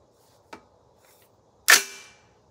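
An 8.6 Blackout rifle fires a single shot of a Maker 350 grain solid copper bullet into gel blocks, a sharp report with a short ringing decay outdoors, preceded by a faint click, with no talking.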